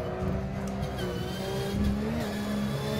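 A Boxer Cup race car slides sideways over the curbs at Sandown in the Automobilista sim racing game; a steady engine drone holds under a faint tire squeal.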